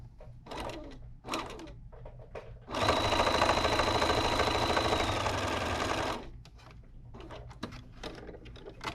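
A sewing machine stitches pieced quilt fabric at a quarter-inch seam, a fast steady mechanical whir running for about three seconds in the middle, with quieter handling clicks and rustles before and after.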